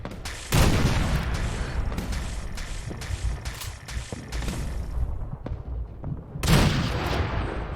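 In the video game Fallout 4, a heavy punt gun fires two massive booming blasts several seconds apart, with loud rumbling battle noise and clatter continuing between them.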